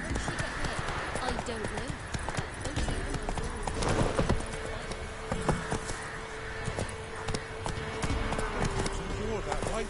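Roach the horse from The Witcher 3 galloping, rapid rhythmic hoof clip-clops continuing under game dialogue and a brief spoken line.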